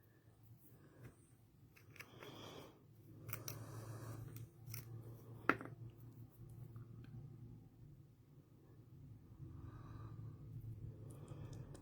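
Scissors cut sewing thread in a few quiet snips spread across a soft, near background, with one sharp louder snip in the middle and no talk.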